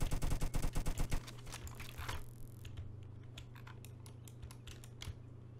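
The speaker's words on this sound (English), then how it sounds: "let's shoot this guy down" Gunfire in the Roblox Jailbreak video game, a rapid volley of about a dozen sharp, evenly spaced shots followed by a quieter stretch of scattered light clicks over a low steady hum.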